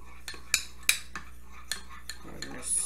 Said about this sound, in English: We're going to stir that in to get rid of all the clumps from that powdered sugar.